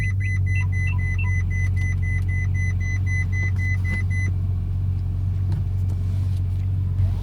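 A Ferrari 458 Italia's naturally aspirated V8 idles with a steady, deep rumble close by, accompanied by a few electronic beeps early on, as the car sits running after a push-button start.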